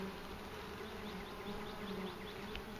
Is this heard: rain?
no